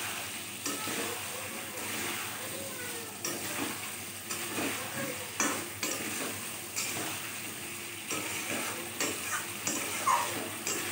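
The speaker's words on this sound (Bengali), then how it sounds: "কচুটা আর আলুটা আমি একসাথে দিয়ে দিলাম, দিয়ে এই মশলার সাথে ভালো করে কষিয়ে নেব।" Taro and potato chunks are sautéed with spice paste in a pan, making a soft, continuous sizzle broken by repeated stirring scrapes and light clinks of a spoon against metal, close by, with no voices.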